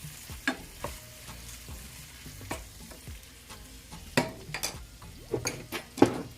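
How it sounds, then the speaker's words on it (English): Mixed vegetables sizzle in a pot while a spoon stirs them, giving soft continuous frying hiss broken by sharp clinks and scrapes against the metal, close and fairly quiet. "just kind of keep stirring this for a few minutes"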